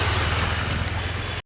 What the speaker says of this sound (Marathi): फ्लोने पाणी भरतंय